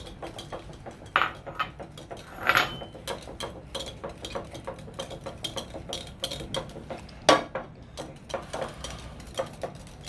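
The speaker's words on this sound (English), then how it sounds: "Okay, so I'm gonna give this a good mix." Cookie batter with vegetable oil being mixed in a bowl, giving a steady run of close utensil clinks and scrapes against the bowl with a few louder knocks, no talking.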